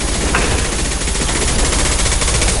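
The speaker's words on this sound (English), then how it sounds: "Firing a high-impact shot!" Rapid, continuous gunfire from the video game Mass Effect 2 Legendary Edition. Dense automatic bursts sound loud and close, with no break.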